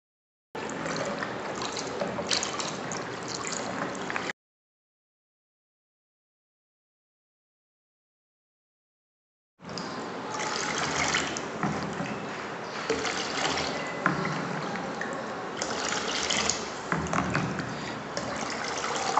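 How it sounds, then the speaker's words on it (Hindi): Ice-cold water is poured into lemon syrup for a nimbu sharbat drink in a home kitchen, giving a steady splashing pour. It stops for several seconds, then resumes for a longer stretch, close and fairly loud. "अब इसमें शामिल करेंगे पानी, और पानी मेरे पास बिल्कुल ठंडा बर्फ़ वाला है।"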